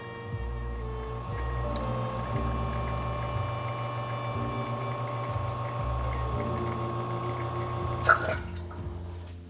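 An espresso shot brews on a Sanremo Cafe Racer machine at Macondo Coffee Roasters, a steady close pump hum with a faint liquid trickle throughout, ending with a brief sharp clack.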